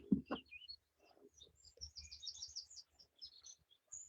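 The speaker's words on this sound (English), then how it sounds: "Maybe listening to the bird song just for a final moment." Birds chirping and trilling in bright, scattered bursts, with a few low thumps early on and quiet gaps between calls.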